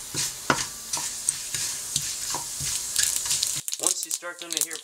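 Cumin and mustard seeds pop and sizzle in hot olive oil with stirring, a dense steady crackle that stops near the end as a voice begins speaking.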